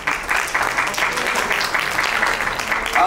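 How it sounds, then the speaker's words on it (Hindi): An audience at a women's celebrity cricket event applauds an investor brought onto the stage, a continuous, fairly even clapping that carries on without a break from start to finish. "जोरदार तालियां सर."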